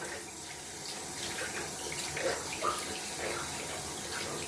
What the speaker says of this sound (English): Just rinsing off the sink a little bit here is really messy.